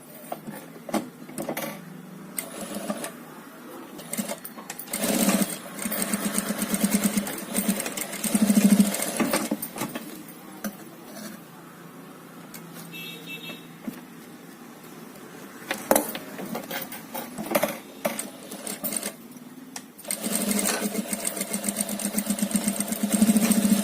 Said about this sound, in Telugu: 2 సైడ్స్ లో నేను ఇట్లా స్టిచ్ చేసుకున్నాను అనమాట.